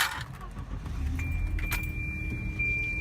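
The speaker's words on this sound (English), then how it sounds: "now start the car up just to make sure that everything is functioning" Keys jangle in the ignition as a car is started, followed by a short whirring engine start and idle, close and brief, with a high electronic warning chime sounding through it.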